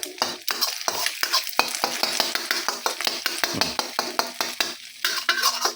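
Egg stir-fried with garlic, scallions and coriander over low heat in a pan, a steady sizzle broken by frequent scraping and stirring strokes of a utensil against the pan, close and continuous with no talk.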